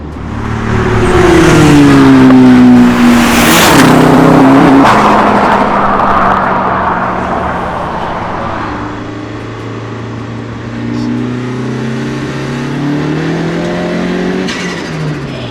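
A swapped Renault 5 GT Turbo with a C20LET engine and red top turbo, running a stock clutch, revs hard and climbs through a gear, loud and close from inside, then settles and accelerates again with continuous engine roar.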